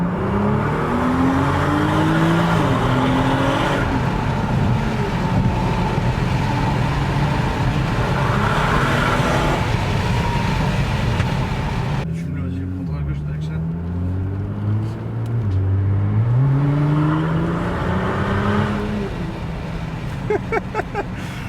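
Nissan GT-R R35 with its silencer removed, 560 hp, growls loudly from inside the cabin while driving, its drone rising and falling through repeated revs and gear changes, with people talking over the engine throughout.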